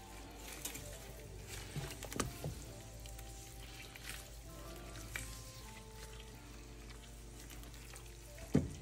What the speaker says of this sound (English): I'm gonna let this cook down just a little bit